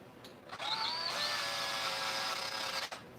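A hammer drill cleans the burr out of a hole, whirring in one steady high-pitched burst of about two seconds, fairly faint with brief knocks before and after.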